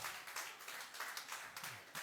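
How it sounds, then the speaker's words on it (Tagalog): A church congregation applauds for the Lord, a faint, even stream of many hands clapping without a pause. "Palakpakan po natin ang ating Panginoon."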